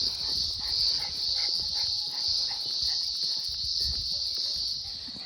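Cicadas drone on a quiet suburban street in a loud, continuous high buzz that holds for the whole stretch, with faint low rustling and thumps beneath and no speech.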